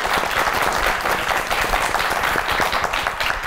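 A TV studio audience claps loudly to welcome a guest onto a comedy talk show, dense, sustained applause filling the room without a break.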